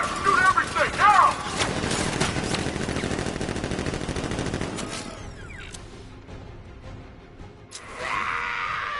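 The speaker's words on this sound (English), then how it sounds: "Open fire! Shoot everything! Now!" Thugs open fire in the video game Batman Arkham Knight, unleashing a loud, dense barrage of gunfire with crashing impacts for several seconds before it fades into quieter clatter, then a brief noisy burst at the end.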